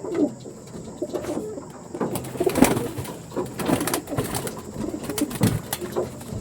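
A pair of pigeons held for sale coo nearby, with repeated soft rolling coos rising and falling in irregular bursts over a faint background hum.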